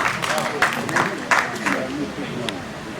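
An audience at a Hindi-Urdu poetry gathering (kavi sammelan) applauds to welcome a poet, with uneven bursts of clapping over crowd murmur and voices.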